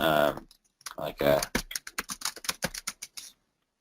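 Fingers typing on a computer keyboard up close, a quick run of distinct key clicks following a few moments of a person speaking, then falling silent.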